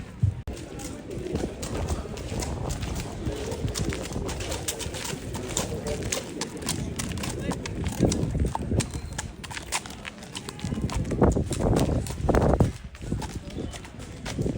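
Horses from the region are shown at a market fair in Toucy, hooves clopping irregularly on hard ground amid birds cooing nearby, with a voice and crowd murmur in the background.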